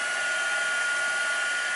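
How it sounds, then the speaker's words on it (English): A noisy heat tool, like a hair dryer, blowing steadily while setting paint on a mixed media canvas, a loud continuous airy whir with an electric hum and no other sounds. "As if you can hear me over the noise of this very noisy heater."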